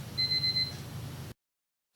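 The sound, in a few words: alarm going off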